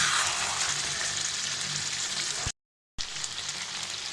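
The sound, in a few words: meat being stir-fried in a pan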